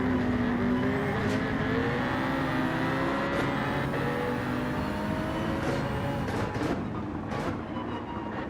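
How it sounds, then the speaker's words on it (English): A loud BMW Z4 engine in Gran Turismo 7 roars continuously at high revs, its pitch sweeping up with each gear shift, with brief clicks over the steady drone. "Yeah, the Z4 is a loud car, isn't it? It's really loud."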